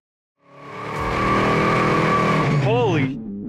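A high-horsepower classic car rises from silence into a loud, sustained engine roar, close by, with a wavering whine sweeping up and down near the end as it is pushed through a turn.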